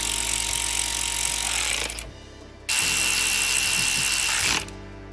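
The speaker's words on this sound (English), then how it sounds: "I'm just running the bolts in around the timing cover" Cobalt 24V brushless 3/8 cordless ratchet runs bolts in around an engine timing cover, giving a loud continuous whirring buzz that stops briefly and then resumes. No talking.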